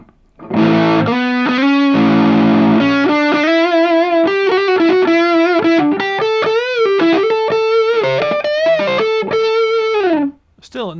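A heavily overdriven electric guitar through a Xotic SL Drive overdrive pedal with the drive turned all the way up plays a continuous run of sustained notes and bends, thick and saturated, loud and close, with no talking.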